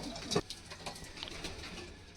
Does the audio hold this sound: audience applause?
no